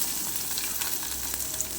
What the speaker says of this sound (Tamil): இஞ்சி பூண்டு பேஸ்ட்டு சேர்த்து வதக்கி வெங்காயம் போட்டு